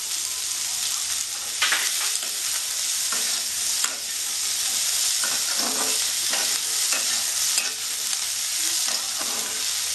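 Onion paste, sliced onion and chilli sizzle steadily in a hot pan, a continuous close frying hiss broken now and then by stirring scrapes, with no talking.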